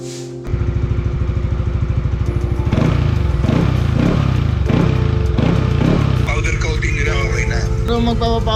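A customized, locally made motorcycle fitted with an E-TEC pipe version 2 exhaust idles with a steady, loud putter, then is revved several times in rhythmic bursts before settling back to idle, with faint chatter and clatter in the background.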